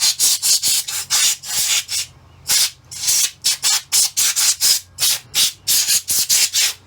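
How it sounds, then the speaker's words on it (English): Repeated short bursts of compressed air blasting dust out of a game console, loud and close, coming in quick uneven pulses with brief gaps between them. "I'll hit this with the air compressor. Full blast on this one."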